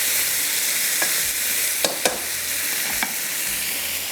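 Chicken fries on a high flame, a steady close sizzle with a few sharp pops and clinks of stirring, no voices.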